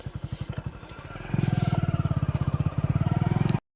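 A motorcycle engine thumps nearby in a rapid, even rhythm, growing louder and fuller as it revs up midway, before cutting off abruptly.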